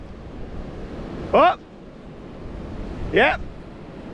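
Ocean waves break over a very shallow reef near a small boat, giving a steady wash of surf under wind noise, with someone speaking briefly twice.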